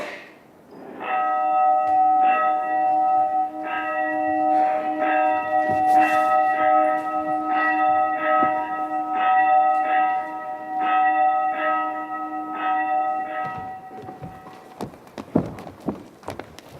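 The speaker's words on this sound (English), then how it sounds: "the bell of justice rang" A bell of justice at a Mughal court in Agra rings out loud and near with about ten evenly spaced ringing strokes, each tone lingering into the next, then fading into quieter scuffs and knocks.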